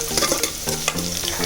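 Onions, curry leaves and dried red chillies are stirred in a hot frying pan, giving a steady close sizzle broken by short scraping stirs, with no voices.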